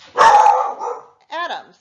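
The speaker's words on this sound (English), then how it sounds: "Sorry about my dog." A dog barks loudly and close by, a burst of harsh barking followed by a shorter bark or yelp, with a person speaking in between.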